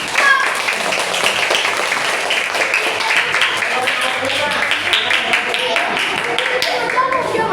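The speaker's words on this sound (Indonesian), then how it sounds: "Oke, tepuk tangan." A roomful of children clap their hands together in a classroom, a dense, steady patter of many overlapping claps that carries on throughout, close and fairly loud, with a few young voices mixed in.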